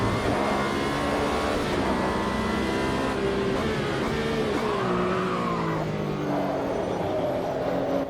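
Race car engines in Automobilista 2 (AMS2) roar continuously and loudly, with shifting pitches as several cars rev, accelerate and change gears close together on track, some tones sweeping up and down as they pass.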